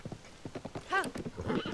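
Horse from the video game Tears of the Kingdom gallops with rapid clip-clop hoofbeats and lets out a loud, close whinny midway, all in quick succession.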